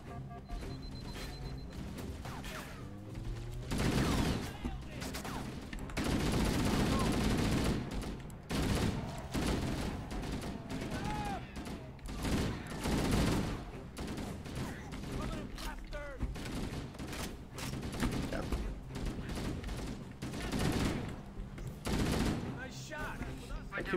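Gunfire in a Halo video game, repeated bursts of automatic weapon fire mixed with explosions and mechanical clatter, loud and continuous through a chaotic firefight, with occasional talking underneath.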